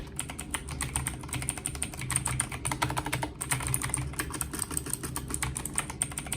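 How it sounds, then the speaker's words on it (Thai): Rapid clicky typing on a Marvo KG902 mechanical keyboard with blue switches, a dense stream of crisp keystrokes close up, continuous and fairly quiet, with no talking. "เสียงกดก็พอใช้งานได้นะครับ ก็บูสวิตทั่วไปเนาะ"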